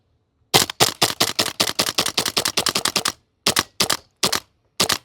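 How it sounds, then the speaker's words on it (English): A CYMA CGS Noveske N4 airsoft gas blowback rifle fires a magazine of BBs in a rapid run of sharp, loud close shots, then slows into a few spaced single shots as the gas weakens. "We're going to our next full mag of BBs, same gas fill."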